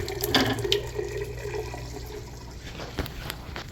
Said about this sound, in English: Drain down the water.